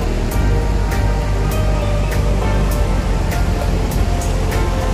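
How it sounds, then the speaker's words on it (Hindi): Mountain water rushing down near an iron bridge on the road to Dharamshala in Himachal, a loud, constant roaring torrent with steady broadband rush and faint clicks over it, no talk. "ये पहाड़ों से आ रहा है पानी पूरा ऊपर से"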